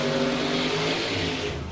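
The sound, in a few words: blown hot rod drag race car in the water box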